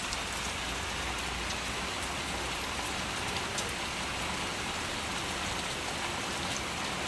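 Heavy monsoon rain pours steadily outside a window, a dense, continuous hiss of drops hammering surfaces with no pauses, loud and close, with no voices over it.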